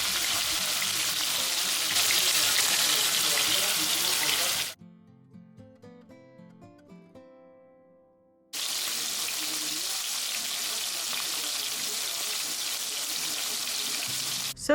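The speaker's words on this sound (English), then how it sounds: "Let's hear it sizzle." Loud, bright sizzling of shrimp frying in an oiled hot pan, cutting out midway for a few seconds of quieter sounds before the sizzle returns steadily.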